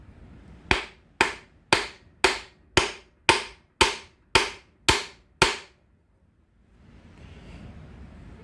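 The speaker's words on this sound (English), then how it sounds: "What happens if we try to tap on it with a block of wood?" A block of wood striking an engine part ten times at a steady, fairly quick pace, each a sharp, loud, close knock with a short ringing decay, followed by a quiet pause and faint rustling.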